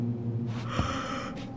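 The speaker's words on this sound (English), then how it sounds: "He's yawning." Tyler, a character in the Tell Me Why video game, gives a single breathy yawn over a steady low game background hum.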